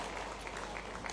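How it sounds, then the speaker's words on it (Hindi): A rally crowd claps steadily and densely through a short burst of applause that stays even throughout, with no voices standing out. "जोरदार ताली बजाइए"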